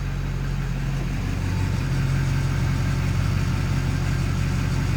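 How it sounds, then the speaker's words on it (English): A Duramax diesel pickup idles with an aftermarket FASS lift pump running, a steady low engine rumble holding constant and fairly loud throughout, with the pump itself barely distinguishable beneath it. "We'll come back here with the pickup running and see if we can pick up any noise from the lift pump."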